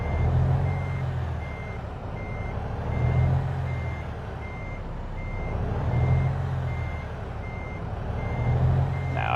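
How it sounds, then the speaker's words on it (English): A truck in American Truck Simulator backs up, its reversing alarm beeping in a steady, evenly spaced pattern over a constant low engine rumble, with no talking. "Oh god, it's got the fucking reverse beep."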